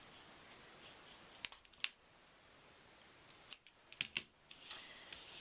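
Scissors trim the end of a pipe cleaner for a Christmas angel craft. Quiet, close snips come in two short clusters against a faint background.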